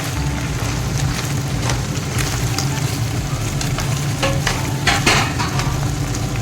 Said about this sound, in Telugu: సో చికెన్ని ఇలా మొత్తం వేసేసి కలుపుతూ మంచిగా కలిపేస్తుంది